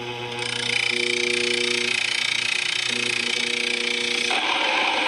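Grain mill grinding soft wheat, a steady mechanical whir with sustained humming tones that shift partway through, running continuously and fairly loud.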